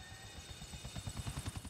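A helicopter's rotor chops steadily in GTA IV: The Ballad of Gay Tony, a rhythmic low thudding that grows louder and closer over the short stretch, heard alone without talk.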